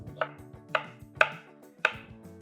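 Four distinct knife strikes on a cutting board, spaced unevenly and fairly close, as diced carrots are chopped for lasagna, with a low musical background beneath.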